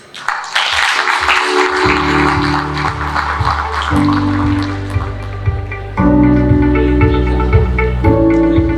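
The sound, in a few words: audience applause for guest speaker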